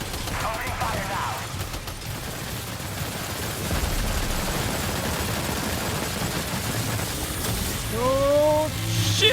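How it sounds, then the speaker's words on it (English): Bursts of gunfire crackle in the video game Death Stranding 2, dense rapid shots layered over game effects, with a few electronic tones near the end. "Opening fire now."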